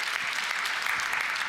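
A church congregation claps in warm, steady applause, a dense, even patter of many hands filling the short moment without pause.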